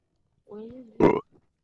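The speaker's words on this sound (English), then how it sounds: "I burped." A short voiced grunt leads into a single loud, close burp, followed by a faint murmur.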